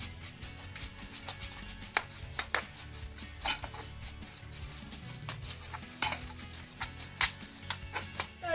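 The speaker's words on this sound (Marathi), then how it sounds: "नंतर आल्यामध्ये हा गुळ छान असा मिक्स करून घ्यायचा आहे" A spoon works chopped jaggery into ginger in a bowl, giving irregular clinks and scraping taps spread across the clip over a quiet background, with no talking.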